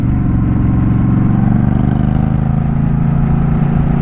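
Honda Rebel 1100 motorcycle engine rumbling steadily while riding in the mountains, a loud close drone with a constant low pulsing throb and no pauses.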